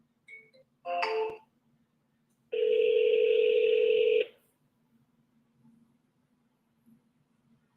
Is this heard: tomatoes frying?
no